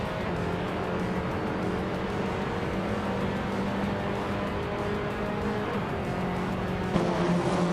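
Race cars in a video game roar around the track: a loud, continuous engine drone with whining tones that rise and fall slightly as the pack runs close together.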